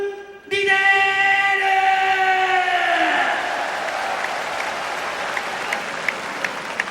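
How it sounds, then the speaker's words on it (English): Arena crowd applauding fighter introductions at a Pride 2003 event, a burst of clapping and cheering that starts abruptly and rolls on under a sustained musical fanfare, then tapers to scattered claps. "I wonder who's clapping amongst the 3 of us there"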